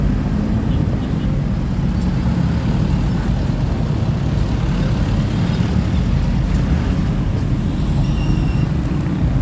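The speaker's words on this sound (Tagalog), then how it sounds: "Friday traffic." Heavy Friday road traffic rumbles steadily and loudly throughout, a dense low roar of passing vehicles with no clear breaks, heard from close by.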